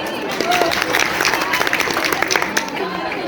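A young audience at a Republic Day speech about Ambedkar breaks into clapping, a busy patter of hands mixed with voices and crowd murmur across the short stretch.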